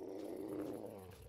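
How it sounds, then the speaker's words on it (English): A creature growls in the Empyrion survival game, one of the friendly natives of the planet Aqua, giving a low, steady rumbling growl that holds close and fairly loud for over a second with no talk. "It's something growling."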